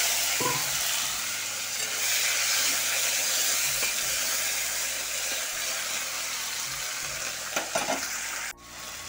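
Tomatoes go into spices frying with ginger and cumin paste in a pan, raising a loud, continuous hissing sizzle that stays steady for several seconds, with a few stirring knocks near the end.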